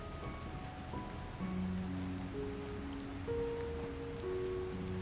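Rain patters steadily on surfaces in a nighttime scene from the game Love and Deepspace, with soft tonal music underneath and no talking.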